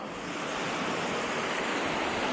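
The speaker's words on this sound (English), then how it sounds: "So what would always be basically water just running down the canal" Water pours steadily down a canal overflow beside locks on the Stroudwater, a broad, continuous rushing roar that holds at a constant moderate level with no pauses and no voices.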